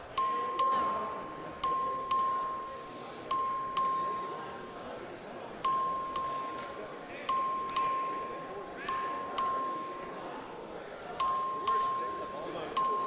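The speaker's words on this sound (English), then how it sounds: "The clerk will ring the bell." A voting bell rung by the clerk on the Texas House floor, a bright electronic ding repeated in regular bursts roughly every couple of seconds, fairly clear over a quiet chamber murmur.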